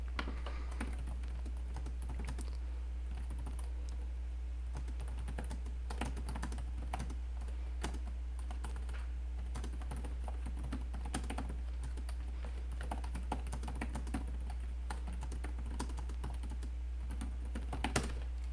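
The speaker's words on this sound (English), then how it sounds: "Let's do a quick typing test, see if they actually feel any different." Close, continuous keystrokes tapped out on a Lenovo LOQ laptop keyboard, an uneven patter of light plastic clicks with occasional louder presses over a constant low hum, no voices.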